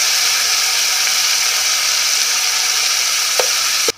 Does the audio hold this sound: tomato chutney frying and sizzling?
yes